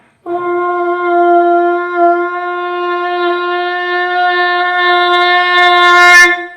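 A voice imitates a conch shell, holding one long, steady, resonant horn-like note for about six seconds.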